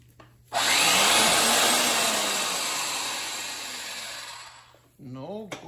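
A powered pipe cutter cuts pipe during a hydraulic separator install, giving a loud, steady grinding whir that starts abruptly and slowly fades over about four seconds before stopping, followed by a brief squeal.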